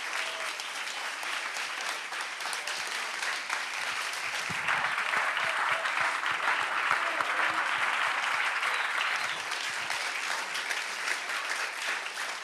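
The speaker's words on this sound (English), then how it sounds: "An applause for Sophia and for Marcos." An audience at a live stage show in Mallorca gives a long, full round of applause for two participants, many hands clapping in a thick continuous patter that holds steady throughout.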